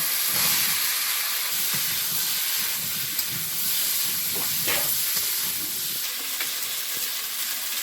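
Potatoes fry in oil with cumin seeds and ginger paste, giving a loud, continuous hiss and sizzle close by, with occasional faint clinks of stirring.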